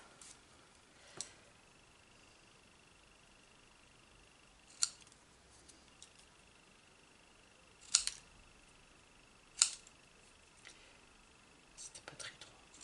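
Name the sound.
cutting paper with scissors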